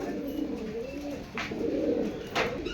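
Pet pigeons coo close by in soft, repeated low throaty calls, with a couple of brief sharper noises cutting in between.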